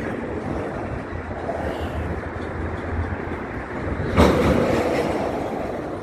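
A CN freight train reverses during shunting at Southwark rail yard, a loud continuous rumble of rolling wagons with clattering wheels and a sharp clank of couplers near the end, heard nearby under wind noise.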